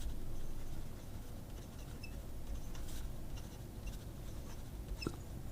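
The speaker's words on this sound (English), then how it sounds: "the paper's squeaking" A TWSBI Diamond fountain pen with a steel broad nib squeaks across smooth-coated paper, a faint, scratchy, intermittent rubbing heard close up with no talk over it.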